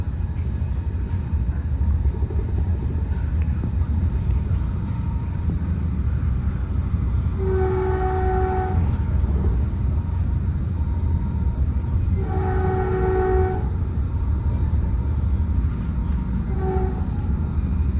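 Caltrain limited-stop train skipping through Hayward Park Station, heard from on board as a loud steady rumble of rolling wheels with three sustained horn blasts spaced several seconds apart.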